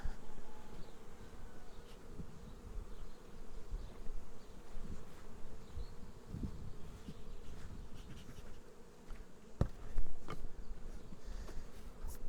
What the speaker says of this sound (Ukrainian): дійсно іде принос і бджілки працюють